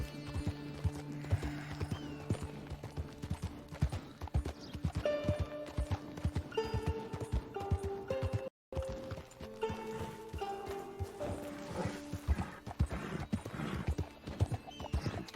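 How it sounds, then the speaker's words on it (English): Hooves of a horse walking in Red Dead, a steady close clip-clop rhythm throughout with an occasional whinny, over a faint musical backdrop and a brief dropout midway. "My horse is walking"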